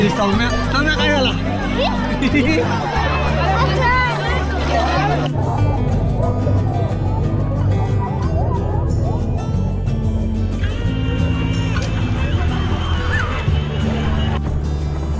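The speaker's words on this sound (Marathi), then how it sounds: "प्रमाणाच्या बाहेर गर्दी आहे" A large, dense crowd of families at a secret dam in Alibag taluka makes constant loud hubbub, with many voices shouting and chattering nearby and animal calls scattered through the babble.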